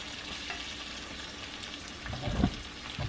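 Eggs fry in a pan with yolks broken and spread, a close, steady sizzle with a brief louder scrape-and-stir burst near the end. No voices.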